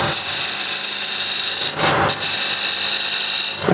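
A woodturning lathe cuts very hard wood, a loud steady scraping and rubbing hiss that dips briefly as the tool lifts, then resumes.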